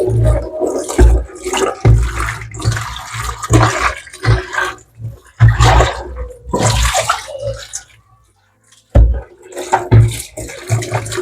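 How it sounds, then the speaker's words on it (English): Fermentation containers used for kombucha being rinsed with plain water, running water splashing and sloshing loudly in bursts with brief pauses, including one near-silent gap. "I just washed most of my ferment gadgets, my containers, with plain water."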